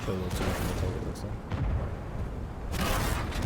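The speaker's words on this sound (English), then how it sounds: "That explosion looked funny." Explosions and cannon booms in the tank combat game World of Tanks, with heavy, rumbling bursts at intervals between a constant low battle roar.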